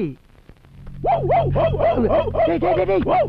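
A voice mimics a dog, letting out a rapid string of about ten loud, close, yelping barks in a steady rhythm.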